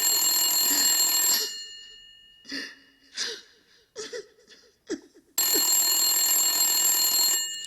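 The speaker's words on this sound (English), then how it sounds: "Cece started not to answer the phone, but she decided to answer it anyway" An old-style telephone bell rings in two long loud bursts separated by a quiet gap with faint short sounds.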